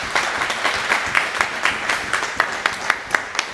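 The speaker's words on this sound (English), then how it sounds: "Come on, give a round of applause." Audience applause rings out for the finalists of a US snooker masters final, a dense burst of clapping from a crowd, steady at first, then thinning into sharper, separate claps toward the end.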